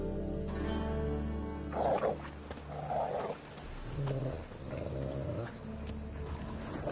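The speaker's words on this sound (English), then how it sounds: "Just beware of the dogs." Dogs in The Witcher 3 video game growl and bark in a few rough bursts over a steady low ambient drone, fairly near and moderately loud, with no talking.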